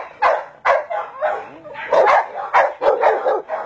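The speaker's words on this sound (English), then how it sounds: "You gonna growl at me?" A small dog barks and yips in quick, repeated bursts close by, with low growling rumbles in between.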